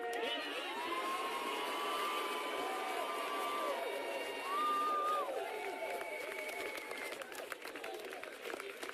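Large outdoor crowd at a political gathering cheers and claps continuously at a distance, a faint, steady roar of voices with scattered shouts.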